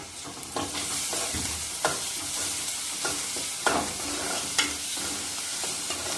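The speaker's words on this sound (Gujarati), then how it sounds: "તો ડુંગળી અને લસણ આદુની પેસ્ટ થોડીક વાર આપણે સળવા દેવાની છે" Onion with ginger-garlic paste sautés in a pan, a steady close sizzle broken by a few sharp scrapes of stirring, with no voices.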